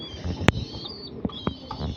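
Imported racing pigeons cooing in a loft, soft low calls close by with a few brief flutters or knocks, and no voices.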